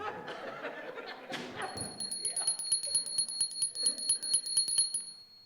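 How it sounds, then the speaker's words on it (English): A small Ahimsa bell rings with a sustained high, shimmering tone and rapid repeated strikes after a brief bit of laughter and talk. "This, in our family, is called the Ahimsa Bell."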